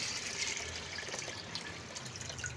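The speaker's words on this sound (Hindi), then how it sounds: "तो इसमें अब पानी हम थोड़ा सा और ऐड करेंगे।" Water is added to a pressure cooker holding mutton paya, a steady close pouring and trickling flow that runs without a break for the whole stretch.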